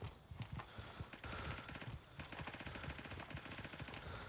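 Rapid automatic gunfire from the military shooter Gray Zone Warfare, dense bursts of shots crackling close and loud throughout, with steady repeated reports and no talk.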